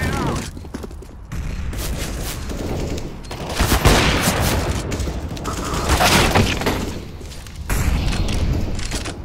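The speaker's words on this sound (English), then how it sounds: "Grenade out." Gunfire and a grenade blast in the video game CS:GO: dense bursts of shots and booms roll on throughout, with players talking over the noise.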